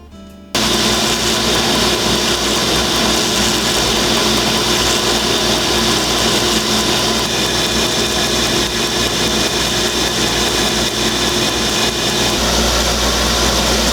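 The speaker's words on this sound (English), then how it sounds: "keep grinding and sanding and grinding and sanding and sanding and grinding." A steady, loud abrasive whine of a belt grinder works a mosaic Damascus Bowie knife blade, starting abruptly and running continuously with a constant droning pitch throughout.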